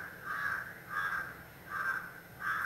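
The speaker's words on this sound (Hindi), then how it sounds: "इस कौवे को भी अभी साउंड करना था जब मैं वीडियो बना रही हूँ" A crow caws repeatedly outdoors, four harsh rasping calls in a steady rhythm with short gaps, moderately loud against a quiet background hum and no speech.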